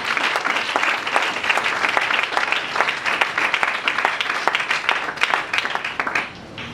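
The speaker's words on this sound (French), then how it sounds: "Acclame très fort" A church congregation breaks into loud, sustained applause, dense rapid clapping from many hands that holds steady for several seconds before tapering off at the end.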